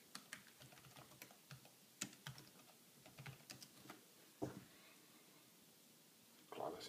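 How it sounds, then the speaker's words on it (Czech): Quick clicking keystrokes on a ThinkPad laptop keyboard, a loose rhythm of taps and short bursts, close and fairly quiet against low room noise. "Klávesnice funguje bez problémů."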